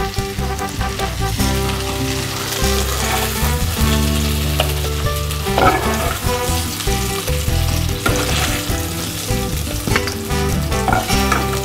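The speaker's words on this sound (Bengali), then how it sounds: "এটাকে আবার ভাজবো।" Potatoes frying in hot oil for a Bengali dish, a steady dense sizzle with occasional stirring and scraping, loud and close throughout with no talking.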